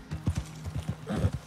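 A horse in Red Dead Redemption 2 clip-clops with a few close hoof strikes in an uneven rhythm, followed by a short whinny near the end; no talk is heard.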